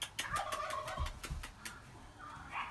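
Rescued turkeys gobble in a rapid, rattling burst of repeated calls, fairly close and loud, followed by a few softer, scattered calls.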